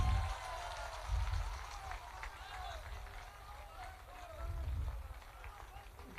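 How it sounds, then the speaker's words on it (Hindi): A crowd at a political party gathering applauds steadily, a dense patter of clapping that swells and eases, with a voice speaking over it. "जोरदार ताली बजाइए।"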